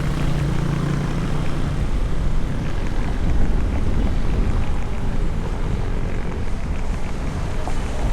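Strong headwind buffets a microphone on a moving bicycle, a loud, constant roaring rush that fills the whole stretch with no speech.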